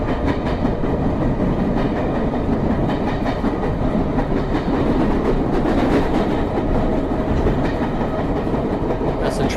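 A London Underground train rolls past, loud continuous rumbling with rhythmic clickety-clack of wheels over rail joints throughout, no voices.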